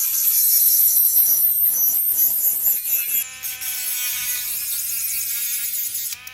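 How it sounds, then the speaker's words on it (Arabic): A small three-speed cordless mini rotary grinder whines at a high pitch, buzzing unevenly at first, then settling into a steady, slightly lower drone. "كوردليس ميني جريندر 3 سرعات"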